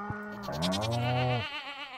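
A Stardew Valley goat lets out a single drawn-out, trembling bleat, loud and near, sustained for over a second before tapering off, heard alone without speech.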